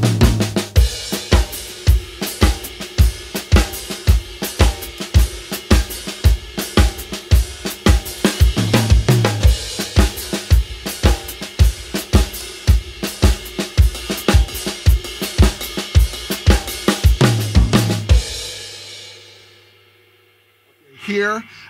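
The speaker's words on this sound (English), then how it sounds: "Here, I'm actually playing 6 notes against the 4 notes that I'm playing on the bass drum." Drum kit in an Afro-American funk groove, six evenly spaced notes laid over four steady bass drum beats, loud, crisp and close, with a cymbal ringing out briefly at the end.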